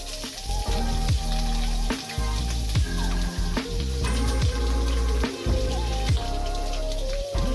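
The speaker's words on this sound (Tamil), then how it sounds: "நம்ம வெங்காயம் முட்டை போட்டு நம்ம வதக்கலாம்" Onion and egg sizzle loudly in a hot pan, a steady crackling fry with occasional stirring clatters and pops throughout.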